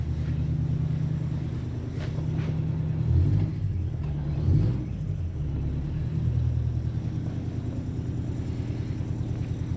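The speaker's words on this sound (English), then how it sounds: "Port side engine fires up instantly." The port side engine of a 52ft yacht runs at a low, steady rumbling idle, close and continuous, with slight swells in level partway through.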